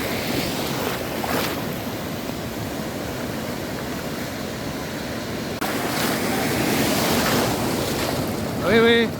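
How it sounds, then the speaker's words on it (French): Ocean waves break on a small cove beach in Charente-Maritime, a steady broadband wash with wind noise across the mic. One louder surge swells near the end, and a faint voice comes in at the very end. "attention les vagues là"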